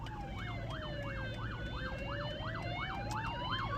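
An ambulance siren wails in a fast, regular up-and-down pattern, fairly close and steady over low road rumble, heard from a car at a roundabout.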